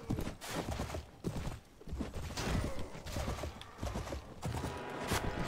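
Horse hooves in the Mount & Blade Floris game clop in a continuous, busy rhythm, mixed with dense clashing battle noise throughout, with no talking.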